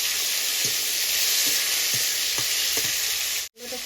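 Elephant foot yam stalks fry in a hot pan with shrimp-style curry spices, giving a loud continuous sizzle broken by several soft stirring scrapes and a brief clatter near the end.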